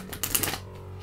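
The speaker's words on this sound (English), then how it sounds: "Okay, that was a good shuffle." Tarot cards are shuffled in a brief, close riffle of rapid papery flicks and taps that lasts under a second and then trails off.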